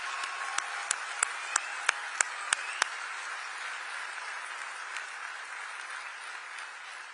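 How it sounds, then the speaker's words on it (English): At the FIFA World Cup draw in Washington, a crowd greets Mexican President Claudia Sheinbaum first with a string of crisp, separate claps, then with a broad, sustained roar of applause and crowd noise. "un gran aplauso a la Presidenta de México, Claudia Sheinbaum"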